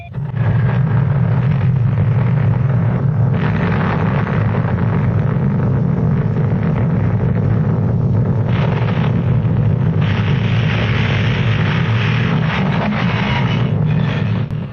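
Archival recording of an above-ground nuclear bomb test blast: a loud, sustained low rumbling roar that rolls on for many seconds with surging bursts, and no voices.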